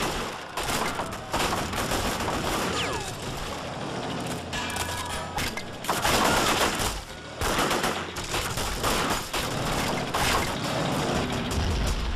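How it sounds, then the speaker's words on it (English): Heavy battle gunfire in the video game Men of War: Vietnam, loud dense bursts of machine-gun and rifle fire crackling almost nonstop with thudding impacts and brief lulls. "We're taking heavy fire."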